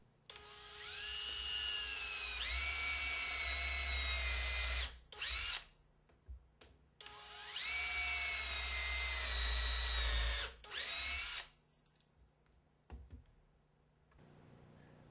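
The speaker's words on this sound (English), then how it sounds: "drill 1/4-inch holes for the dowels that will align the parts during glue-up" Power drill whining through wood boring quarter-inch dowel holes in two long bursts, each followed by short revving pulses, loud and close with no voices.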